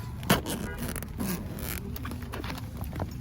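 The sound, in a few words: stiff zipper on roof cargo bag being opened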